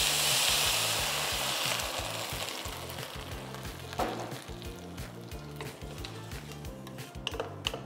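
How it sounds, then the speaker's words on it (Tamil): Water poured over vegetables frying in a pan sets off a loud, steady sizzle with bubbling crackle that eases slightly but keeps going throughout, with no talking. "இந்த வெஜிடபிள் முங்குற அளவுக்கு ஊற்றுங்க தண்ணி."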